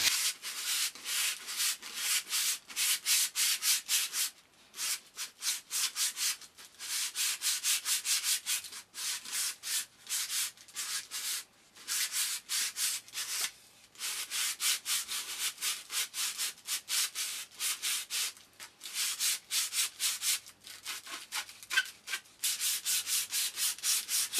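Sandpaper scrubs up and down a wooden arrow shaft clamped between two grooved pieces of wood, a fast, steady rasping rhythm of rubbing strokes with brief pauses, close and continuous with no talk.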